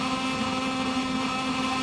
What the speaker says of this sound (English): Here we go, clutch in, revs up.